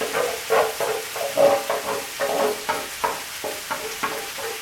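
Onion is tossed onto bell peppers sizzling on a metal disc cooker for a pomarola sauce, with rhythmic scraping stirs about twice a second over a constant close frying hiss.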